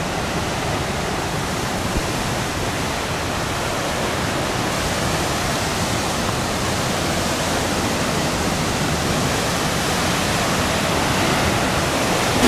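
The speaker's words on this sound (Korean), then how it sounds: "폭포 멋지네요." A waterfall roars among the Si Phan Don islands of southern Laos. The rush of water is dense, steady and unbroken, filling the whole stretch at an even, loud level with no voices.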